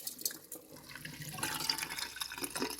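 Rice and water poured from a pan into a strainer during home cooking, a close, steady splashing and trickling wash of water that swells midway and runs on to the end.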